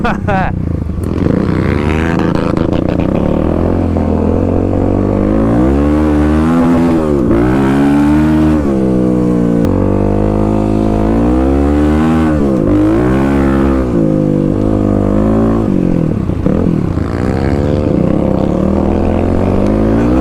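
A Kawasaki KLX351 dirt bike rides off-road over gravel on new Tusk Dsport tires, its engine droning and rising and falling in pitch as it revs, close and loud under a rider's continuous talking.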